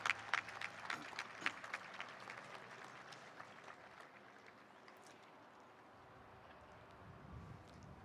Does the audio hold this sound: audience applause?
yes